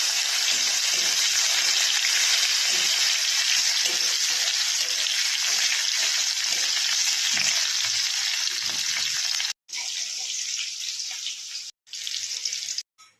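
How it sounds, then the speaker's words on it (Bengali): Bitter gourd frying in oil gives a loud, continuous close hiss that runs steadily and then breaks off in a few short gaps near the end, with no voices. "প্রথমে আমি উচ্ছেগুলোকে আগে ভেজে নেব।"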